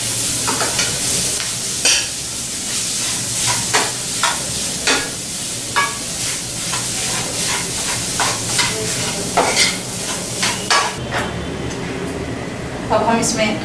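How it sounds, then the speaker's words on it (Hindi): Spoon scraping and stirring potatoes with dried coriander in a hot pan, repeated sharp clinks over a steady sizzle, close and loud, with occasional speech underneath. "आलू मिला देंगे और आलू को अच्छे से मिक्स कर लेंगे"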